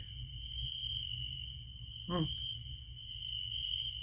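A steady, high-pitched cricket chirp drones on continuously over a low background hum, with a brief warbling call cutting in midway.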